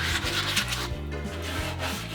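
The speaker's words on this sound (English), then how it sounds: "I'm gonna try using this piece of used sandpaper." Used sandpaper rubbed back and forth over wood in a workshop, steady rhythmic scratchy strokes at close range with a faint low hum underneath, no talking.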